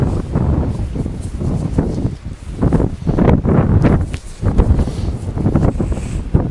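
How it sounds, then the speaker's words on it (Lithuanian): Steady wind buffets the microphone in broad, rumbling gusts that rise and fall throughout, with no voices. "Vėjas."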